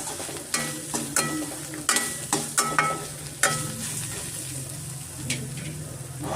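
Raw banana pepper dry, plantain pieces with pepper, frying in a pan while a spoon stirs it, giving repeated close scraping strokes over a steady sizzle.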